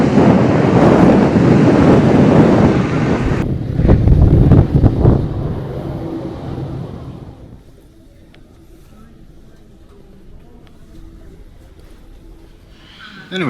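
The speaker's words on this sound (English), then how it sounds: "We were warned that it was windy today, and to be careful when disembarking and walking across the tarmac." Strong wind roars across an airport tarmac at Sumburgh, Shetland, buffeting the microphone loudly for several seconds before dropping to a lower steady rush with faint background rumble.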